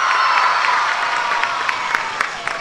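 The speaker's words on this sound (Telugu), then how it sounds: "గట్టిగా చప్పట్లు కొట్టి అభినందించండి." Audience applause at a book launch event for an anti-drug book launched by Chief Minister Chandrababu, a steady wash of clapping with some crowd noise running through the whole stretch.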